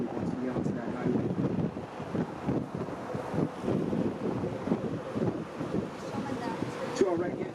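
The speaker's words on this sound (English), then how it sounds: "It gets very windy once we get onto that highway." Steady wind buffeting the microphone on an open-top tour vehicle cruising a Miami Beach highway, a continuous rumbling roar that runs the whole time with faint voices mixed underneath.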